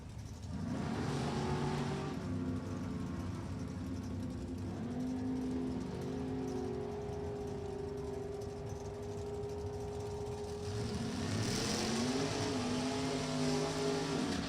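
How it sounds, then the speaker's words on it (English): A 1963 Corvette and an Oldsmobile Cutlass in NHRA drag racing at Virginia Motorsports Park, heard as a loud continuous engine roar held throughout, with a rising rev surge near the end. "63 model Corvette, and Eddie Arnold with the Oldsmobile Cutlass over there on the left side."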